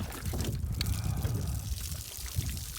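Water from a test jug is poured through a strainer, making a soft, continuous splashing trickle at close range.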